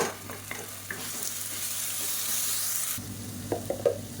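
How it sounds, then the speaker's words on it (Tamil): Ginger garlic paste sizzles steadily in hot oil while being sautéed for a parotta salna, with a loud continuous frying hiss, a few stirring clicks and scrapes early on, then a quieter sizzle with sharper spoon knocks near the end. "இப்போ பாருங்கள் இஞ்சி பூண்டு பேஸ்ட்டு நல்லா வதங்கிடுச்சு"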